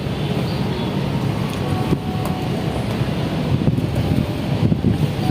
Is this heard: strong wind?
yes